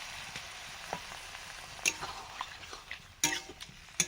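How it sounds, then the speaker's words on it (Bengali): Cauliflower stems sizzle in a pan after a splash of water, a soft continuous hiss broken by sharp metallic clinks and scrapes of a utensil against the pan, no talking. "অল্প পরিমাণ জল দিলাম,"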